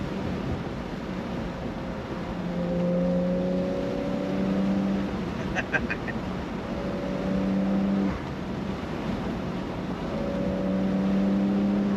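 A Porsche 911 GTS Cabriolet accelerates hard with its roof down, the engine note climbing through the gears in repeated rising sweeps, each broken by a shift, heard from inside the car at speed.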